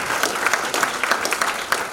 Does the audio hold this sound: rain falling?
no